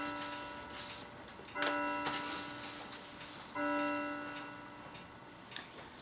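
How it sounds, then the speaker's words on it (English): A loud clock in a quiet room, with a faint steady tick and two longer bell-like tones that each ring for about two seconds, plus a sharp click near the end. "It's a really loud clock"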